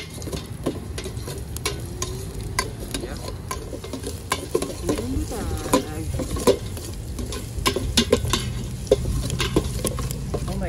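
Garlic and butter with chili sizzle in a pan for crab, a dense steady frying hiss with scattered stirring clicks and occasional faint voices outdoors.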